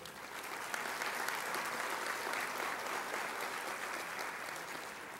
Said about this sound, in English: Give them a round of applause, if you will.